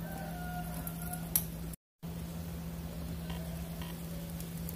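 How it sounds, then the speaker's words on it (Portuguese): A three-egg omelette cooks in a covered pan over low heat, giving a steady, even sizzle close by that breaks off for a moment and then resumes, with no voices. "Para assar o nosso omelete, vou estar tampando aqui e vou deixar o fogo bem baixinho para não queimar"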